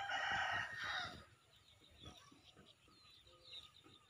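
Free-range domestic chickens at feeding time in rural Thailand: a loud rooster crow opens, then quieter scattered clucks and pecking noises follow in the background.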